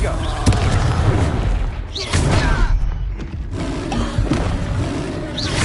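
A Confringo fire spell cast in Hogwarts Legacy, heard as loud, dense booming blasts and crackling bursts that run on steadily with a few sharper hits and a short lull midway.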